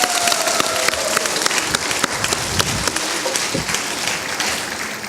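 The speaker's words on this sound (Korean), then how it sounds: "응원의 박수, 격려의 박수 크게 한번 부탁드립니다" Audience claps steadily for party leadership candidates at a Korean regional convention and joint campaign rally, a dense, continuous applause throughout.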